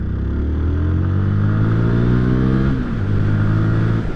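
A Euro 5 CFMOTO 300NK motorcycle pulls away in second gear from about 15 mph. The close, loud engine note climbs smoothly, dips briefly near the end, then carries on steadily.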